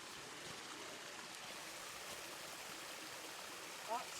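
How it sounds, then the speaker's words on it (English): Water pours like a small waterfall from a pipe on a Portuguese homestead, a steady, even rush of flowing water with a brief faint tonal sound near the end. "Oh, it's like a waterfall."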